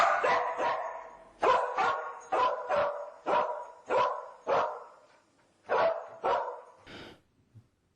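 A cadaver-detection dog barks repeatedly at a shelf in a run of about a dozen sharp, evenly spaced barks, fairly close and clear, ending with a soft whimper.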